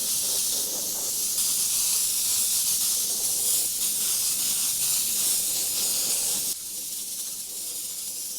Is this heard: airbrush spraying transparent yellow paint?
yes